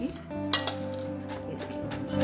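Fried makhana (fox nuts) drop into a pan while making panjiri, giving two sharp clinks and light rattling over a steady kitchen hum.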